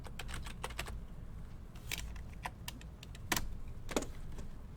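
Someone types an email address on a computer keyboard, a quick irregular patter of key clicks with a few louder strikes, close up over a steady low hum, no talk.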